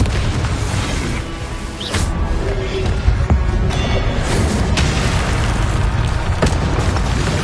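Confringo spell blasts in Hogwarts Legacy, a run of loud booming explosions and sharp bursts over a rumbling, noisy battle background.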